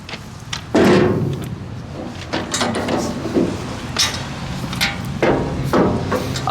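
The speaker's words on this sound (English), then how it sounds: "So you can open this thing barn door style, like such." The two-way rear gate of a new dump trailer swings open barn-door style, giving a series of metallic clanks, knocks and latch rattles, close and loud, spread irregularly over several seconds.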